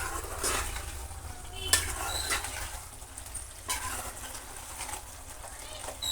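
Chicken being stirred with coriander powder in a small pan from a mini kitchen set, a busy scraping and sizzling texture with occasional utensil clinks, fairly close and continuous.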